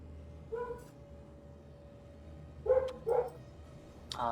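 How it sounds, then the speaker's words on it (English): Several dogs in a house barking at nothing, a short burst early on and a couple of louder barks later, set apart and fairly distant under a steady low hum, with no talk. "I'm living in a house with 4 dogs and they tend to bark at nothing."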